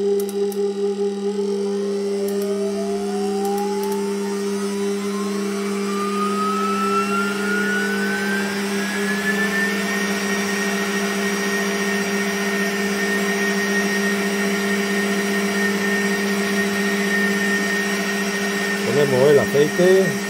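Electric blender whirring steadily as it mixes cake batter with lemon zest for a Spanish panquemao, its motor pitch rising gradually and then holding even, loud and close throughout.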